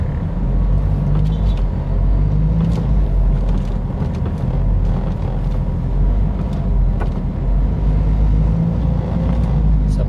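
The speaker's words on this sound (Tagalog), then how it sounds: "medyo mabilis na yung flow ng traffic dito" Road traffic on Lanuza Avenue in Pasig City rumbles steadily from inside a moving car, a low, constant engine and tire drone with faint passing vehicles, while a person talks over it.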